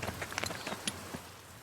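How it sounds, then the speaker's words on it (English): Steady rain in the video game Pentiment hisses softly throughout, with scattered patters and drips standing out over the constant wash. "Look at this rain."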